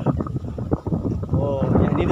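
Low, gusty wind rumble buffets the microphone at a beach property in northern Cebu while a person talks over it, the blustery roar steady and close throughout.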